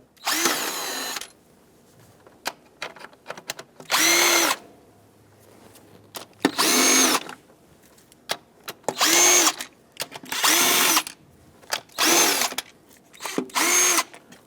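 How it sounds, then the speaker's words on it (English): A power driver with an 8mm socket backs out the bolts of a lower intake manifold on a 3.6L Dodge Grand Caravan, sounding as seven loud whirring bursts separated by quiet pauses and light clinks. "Now with an 8mm socket, I'm going to take out all 8 bolts that hold this lower intake on."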